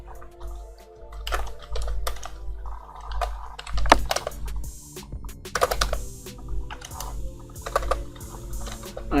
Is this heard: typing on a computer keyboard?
yes